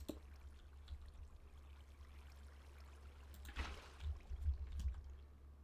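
Faint flowing and pouring water in Minecraft, a quiet trickling stream over a low hum, swelling briefly into louder splashy gushes toward the end.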